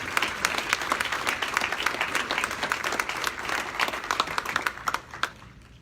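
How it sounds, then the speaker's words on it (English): An audience applauds Sarah Lyman at a magazine's Class of 30 & Under event: a sustained round of crisp, fairly close clapping with distinct individual claps that thins out toward the end. "Please, big round of applause for Sarah Lyman."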